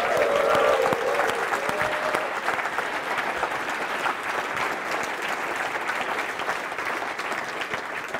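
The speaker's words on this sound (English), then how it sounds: "please make all the noise you can for Adam and his fantastic crew." Conference audience at a festival event applauding steadily for the organiser and crew, dense sustained clapping from a large crowd that holds level throughout without fading.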